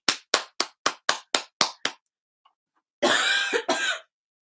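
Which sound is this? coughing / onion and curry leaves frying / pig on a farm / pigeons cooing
coughing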